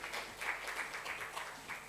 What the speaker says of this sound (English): Please help me to welcome Monica with some applause